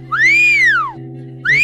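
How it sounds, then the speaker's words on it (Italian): A person whistles two loud, close, sliding notes: a long tone that rises then falls, a short pause, then another rising whistle starting, over a faint steady hum. "Fischia a mano per me."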